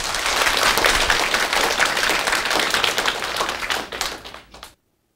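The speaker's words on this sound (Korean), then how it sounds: "여러분 자신을 위해서 한번 박수 한번 쳐보세요." A lecture audience at a Korean televised talk on business startups bursts into dense, sustained applause, loud and even throughout before quickly dying away to silence.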